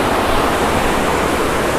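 Rushing water of the Laurel River along a Pisgah hiking trail, a loud, continuous broadband roar with no breaks, close and unbroken by voices.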